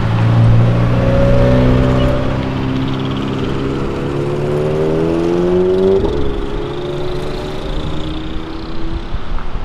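A McLaren sports car driving the wrong way on an avenue, its engine droning with rising revs and a shift partway through, heard loud and close over city traffic noise.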